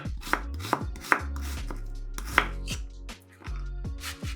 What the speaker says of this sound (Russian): Берем одну луковицу и нарезаем ее небольшими кубиками.